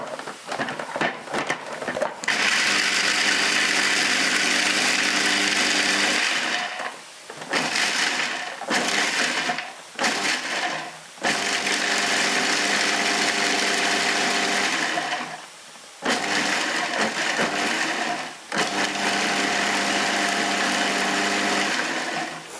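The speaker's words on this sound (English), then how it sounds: "So we're just going to pulse these down, put this in, pulse it down" Cashew nuts are pulsed in a food processor: several loud, long whirring bursts separated by short pauses, close up and with no talking.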